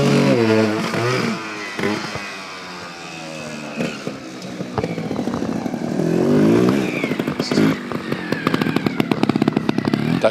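Motorcycle engine at a bike show display, revving hard and climbing through the gears with a deep, rising roar, loud and close, punctuated by sharp clattering bursts near the end.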